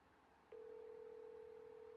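Calling a friend's phone, a steady electronic ringback tone starts after a half-second of quiet room hiss and holds unbroken to the end.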